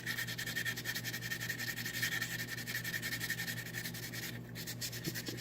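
Fine metal sandpaper rubs back and forth over an oven's bake coil connectors in a steady, close, continuous scrubbing rasp with a brisk rhythm and no pauses.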